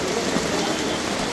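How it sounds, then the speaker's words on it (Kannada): Heavy rain falls steadily as a dense, even broadband hiss with no breaks, loud and close, near the Sigandur cable bridge. "ಫುಲ್ಲು ಮಳೆ ಬರ್ತಿದೆ."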